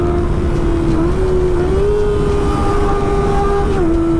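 Kawasaki ZX25R motorcycle engine droning steadily and loudly while riding, holding a continuous high-pitched whine that rises slightly and shifts with throttle, close up with wind noise and no talk.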